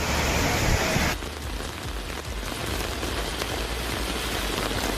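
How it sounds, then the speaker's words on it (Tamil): Sudden rain pours down in a town in Ranipet district, Tamil Nadu: a steady, dense hiss of rain on surfaces, louder and brighter for the first second, then settling into an even, continuous patter with no voices. "ராணிப்பேட்டை மாவட்டம் ஆற்காடு, வாலாஜாபேட்டை, சோளிங்கர், நெமிலி உள்ளிட்ட பகுதிகளில் திடீரென மழை பெய்தது."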